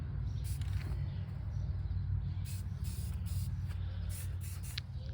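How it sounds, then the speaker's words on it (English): A spray can of Rust-Oleum Gloss Clear coat hisses steadily over painted flower stems, close and fairly even in level, with a low rumbling background and a few faint high chirps. "we make sure that we give everything a good dose of clear coat using the Rust-Oleum Gloss Clear"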